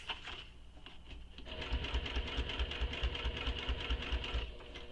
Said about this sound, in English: So top stitch this on the base, making sure your seam is pressed down towards the base.